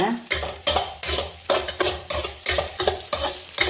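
Grated coconut is roasted in a pan and stirred with quick, rhythmic scraping strokes, around eight loud, close sweeps of a utensil against metal over a soft frying hiss.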